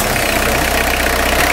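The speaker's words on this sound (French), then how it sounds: "tu allumes le moteur" A car engine idling steadily at close range, a loud continuous low hum with a faint regular pulse.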